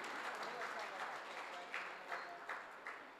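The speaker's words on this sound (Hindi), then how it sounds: "मैं चाहता हूं एक बार इनके सम्मान में आप जोरदार तालियां बजा दीजिए।" A kavi sammelan audience at a birthday celebration applauds, a dense, steady wash of clapping with a few louder bursts standing out, heard fairly close.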